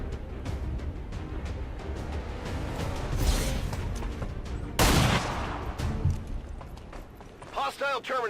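Rapid bursts of gunfire from the video game XCOM 2, crackling shots and a sharp louder blast mixed under a player's talking, with game effects and chirping tones near the end.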